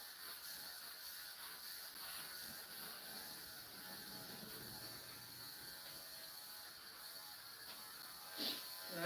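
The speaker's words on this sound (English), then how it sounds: "The clipper that is acting stupid right now is a Andis Pulse ZR2" An Andis Pulse ZR2 electric clipper buzzes steadily and faintly while a dog is groomed, a continuous mechanical hum with a slight ratcheting edge, ending with a brief louder bump of handling noise.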